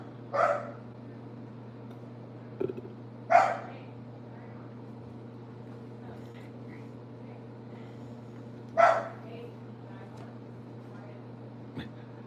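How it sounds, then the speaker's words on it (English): Dog barking indoors at a visiting pest control worker: a few loud, sharp barks spaced seconds apart, with a faint steady hum underneath. "barking at the bug guy"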